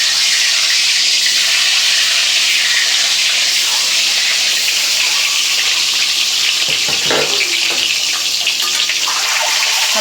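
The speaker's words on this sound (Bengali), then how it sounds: "এখন দিয়ে দিব সয়াবিন তেল তেল গরম হয়ে গেছে এখন আমি ডিমগুলো দিয়ে দিব" Eggs frying in hot soybean oil in a village kitchen, a steady close hiss and crackle of sizzling fat running throughout, with a brief stir or scrape partway through.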